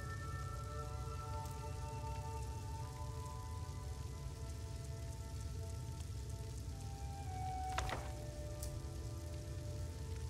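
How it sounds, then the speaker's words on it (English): Steady rain pours down outside in Skyrim, a constant even hiss of falling water with a faint tonal music bed underneath and no talk. "It's pouring down rain outside."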